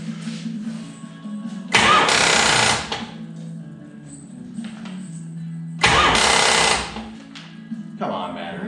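A Dodge Challenger under restoration cranks on starting fluid in two loud bursts of rapid starter churning, each about a second long and separated by a steady low idle-like drone, with a shorter third attempt at the end.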